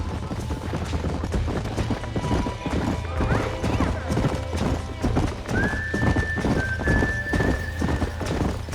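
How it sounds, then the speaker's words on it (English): Rapid hoofbeats pound steadily as horses gallop, with a loud whinny rising near the middle over the rhythmic clatter, in the video game Red Dead Redemption. "These are fine horses."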